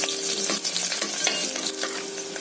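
Chopped onion sizzles and crackles steadily in hot oil, stirred in a pan as a base for chicken sukka; a continuous close frying hiss with occasional scraping stir sounds and no voices.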